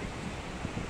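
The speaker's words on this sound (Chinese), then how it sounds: "海浪" Ocean surf rolling onto the shore at Rockaway Beach, Brooklyn, a steady broadband wash with wind buffeting the microphone and a couple of slightly stronger swells.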